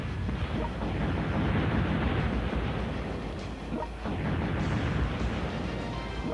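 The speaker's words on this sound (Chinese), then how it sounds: "我们忍痛轰炸我们的大城市纽约" Explosions and rumbling from an in-game bombardment of New York in World Conqueror 4, a continuous heavy roar of blasts with a few sharper impacts, loud and dense throughout with no talk.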